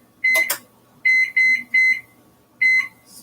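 A kitchen timer being set gives a few close electronic beeps: a short double blip, then three quick tones and a final single beep, with no speech.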